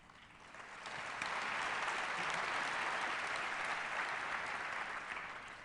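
A panel audience bursts into applause that swells quickly and holds as a dense, even roar of many hands, heard from a distance and slightly muffled.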